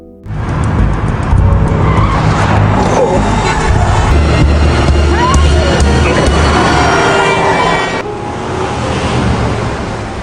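A car driven at high speed with tires skidding and squealing, a loud continuous roar and rush that runs for several seconds before easing off near the end.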